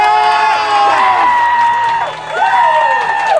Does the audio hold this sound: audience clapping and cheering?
yes